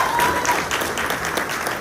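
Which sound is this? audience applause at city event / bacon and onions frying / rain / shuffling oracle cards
audience applause at city event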